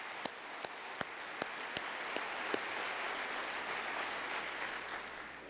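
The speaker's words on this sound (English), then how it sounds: "huge round of applause" Audience applause for a city's police and fire departments, steady and sustained throughout, with a few louder individual claps standing out early on.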